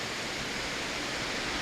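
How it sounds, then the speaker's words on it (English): A small cascading waterfall framed by deadfall on a woodland walk in Japan, a steady broadband rush of falling water, even and unbroken, with no voices. "my favorite subjects, waterfall. It's quite beautiful. It cascades down."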